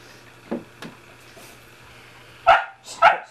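A puppy barks twice, fairly close and sharp, after a few softer earlier yips over a low steady hum.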